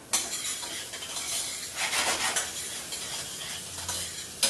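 Onions sautéing in a pan as they begin to take on color, a soft continuous sizzle broken by scraping and stirring sounds from a utensil, close and moderately loud with no talking.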